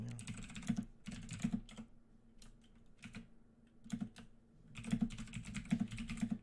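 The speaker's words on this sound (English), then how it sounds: "I think my keyboard is so loud" Bursts of clacky typing on a loud computer keyboard, close to the mic, with clusters of keystrokes separated by short pauses and no talk.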